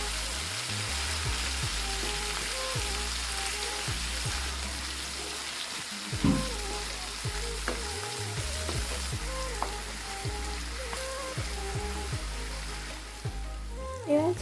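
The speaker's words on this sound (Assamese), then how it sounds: "এতিয়া আমি আনটো ছাইড ফ্ৰাই হ'বলৈ দিম।" Chicken pieces for butter chicken fry in a pan with a steady, close sizzle and crackle, punctuated by occasional soft taps and shifts of the meat; no one speaks.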